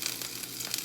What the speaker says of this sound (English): There's something on the bottom of the pan that's making it sizzle like that